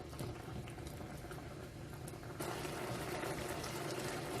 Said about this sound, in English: The bubbles are starting to form